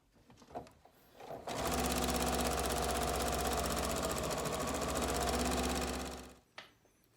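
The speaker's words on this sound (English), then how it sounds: "so gonna start sewing this along" Sewing machine stitching two layers of quilt fabric with a quarter-inch seam, a steady, close, continuous mechanical whir running for about five seconds with no talk, faint handling before and after.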